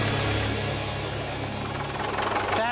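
A World War Two bulldozer engine idles steadily on a farm, a low continuous knocking rumble throughout, close and fairly loud, with a brief higher sound near the end.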